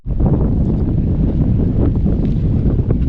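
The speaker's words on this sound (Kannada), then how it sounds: "ತುಂಬ ಗಾಳಿ ಬೀಸ್ತಾ ಇದೆ" Strong wind roaring and buffeting the microphone continuously in a flower garden in the USA, a loud dense rumble throughout with no voices.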